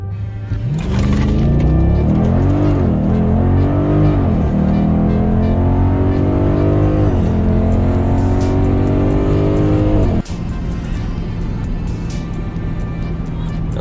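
A 2021 Dodge Durango SRT 392 accelerates hard from a launch, its V8 exhaust bellowing loudly as revs climb and drop through several upshifts, then settling into a steady high-speed drone.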